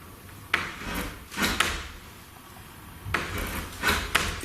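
A door in an escape room knocks and thuds repeatedly as it is pushed shut and swings back open, with sharp wooden bangs in two clusters, close by and with no talk.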